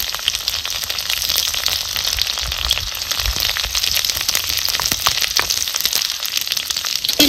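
Crushed garlic and coconut frying in hot oil, giving a dense, steady, loud crackling sizzle up close that continues without pause, with no talking.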